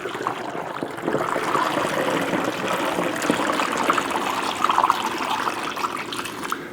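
Sugar water poured into a bottle holding strawberry juice for homemade strawberry wine, a steady close liquid trickle and gurgle that runs unbroken for several seconds.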